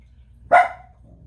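A dog gives one sharp, fairly loud bark in an otherwise quiet indoor room.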